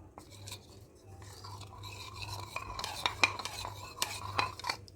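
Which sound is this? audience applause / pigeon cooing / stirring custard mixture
stirring custard mixture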